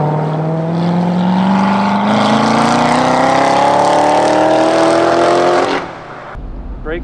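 A 650-horsepower Corvette C7 Z06 engine roars loud and close on the tight, technical Atlanta Motorsports Park track, pitch climbing steadily through a long pull before cutting off sharply near the end.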